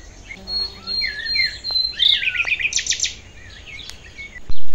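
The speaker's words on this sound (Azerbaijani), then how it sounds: "Eləcə də quşların səsi ilə." Birds sing outdoors in nature on a morning, with several close, clear chirps, whistles and quick trilled phrases coming in bursts over a quiet background, and a brief louder bump at the end.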